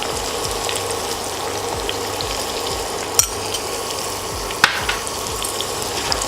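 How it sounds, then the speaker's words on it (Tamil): Onions with a pinch of salt frying in a pan for prawn biryani, a steady close sizzle with soft stirring scrapes and two sharp utensil clicks, no talking. "வெங்காயம் நல்லா கோல்டன் ப்ரௌனாக வதங்கணும்"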